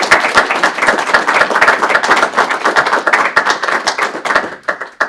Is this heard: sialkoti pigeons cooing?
no